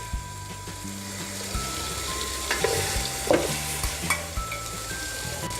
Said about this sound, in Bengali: আদা রসুন পেস্টটা দিয়ে দিব। বাইরে একটু ভালোভাবে নাড়িয়ে নিব, মশলাটাকে একটু কষিয়ে নিব